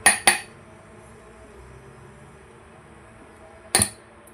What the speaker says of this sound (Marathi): आता आपण त्याच्यात थोडंसं मीठ टाकून अजून फिरून घेऊया।